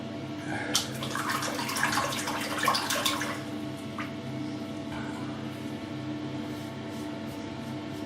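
A bathroom tap runs while a razor is rinsed after shaving, with splashing bursts over the first few seconds, then a quieter steady trickle continuing alone.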